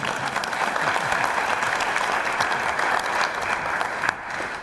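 Applause from an audience at a talk, a dense continuous clapping that stays loud and even before thinning slightly at the end.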